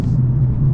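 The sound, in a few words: Mercedes-Benz CLA45S AMG engine revving while driving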